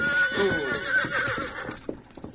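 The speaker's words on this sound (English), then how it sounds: "suddenly he heard hoofs on the trail behind him" Close by, a horse lets out a strong whinny, then its hooves clop unevenly on a trail as the sound fades.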